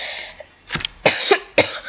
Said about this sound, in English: Seriously, I keep coughing